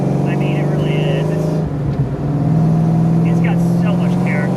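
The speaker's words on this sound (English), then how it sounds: "It's got so much character, and it sounds cool. It has a Flowmaster exhaust." A supercharged 1993 Ford Mustang Fox Body with a Flowmaster exhaust runs close by, its loud, steady engine drone dipping briefly before returning.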